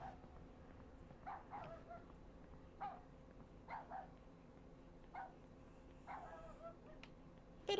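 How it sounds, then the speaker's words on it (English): Dog barking in a video game, a series of short, faint barks spaced irregularly over a low, continuous background hum, with no talking. "The dog sound is in the game."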